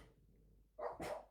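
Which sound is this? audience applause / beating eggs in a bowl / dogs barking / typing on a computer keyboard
dogs barking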